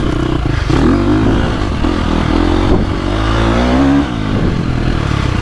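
A 2025 KTM 350XCF dirt bike with an Akrapovic exhaust revs hard through a wheelie on wet gravel. The engine note is loud and close, steady with rising pitch sweeps, and no talk is heard.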